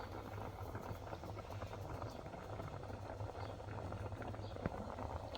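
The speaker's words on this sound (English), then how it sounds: "So the rice is in here. Oh, it's boiling." A pot of rice boils on a gas stove, a faint steady bubbling and hissing heard close by with low background hum throughout.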